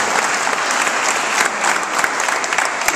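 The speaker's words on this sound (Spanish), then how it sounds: "le damos un fuerte aplauso" A crowd at a community gathering during a mayor's visit claps loudly and densely. The sharp claps run without a break for three seconds, close to the microphone.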